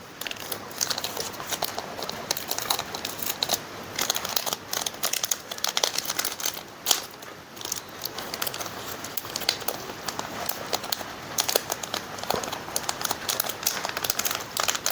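Parcel packaging holding ordered collector coins is torn and crinkled open up close, with a steady run of crackling, rustling handling noise throughout and no talk.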